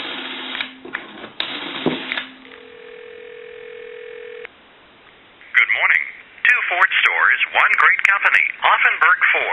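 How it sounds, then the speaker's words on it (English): Dial tone from a repaired Galion rotary desk telephone connected to a regular line: a steady tone holds for about two seconds, followed by a call to a time and temperature line answered by a recorded voice speaking. "Give you some dial tone."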